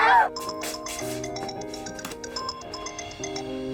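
A phone ringtone plays a melodic electronic tune, close and clear, with a brief voice at the very start.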